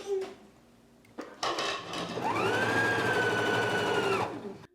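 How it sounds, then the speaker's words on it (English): An electric sewing machine runs a quarter-inch topstitch along a seam for a jumper dress, opening with a few clicks and handling noises before settling into a steady, close whirring hum that slows and stops at the end. "we need to stitch 1/4 of an inch from that seam"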